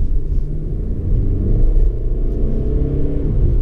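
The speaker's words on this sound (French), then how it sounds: "donc on pouvait l'entendre, le moteur aussi est donc en mode sportif" A 2019 Mercedes C 220d AMG Line sedan's diesel engine in sport mode gives a steady, deep, loud rumble that holds throughout with slight swells, and no voices are heard.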